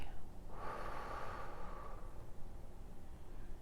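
Someone takes a slow, deep breath in and then blows it out in a single soft, close exhale that gradually fades, in an otherwise quiet room.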